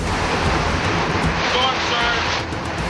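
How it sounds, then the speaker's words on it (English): Hurricane Katrina storm surge water rushing into a room, a loud, continuous roar of churning water and wind noise with no break, close to the microphone. "Water's coming in the room."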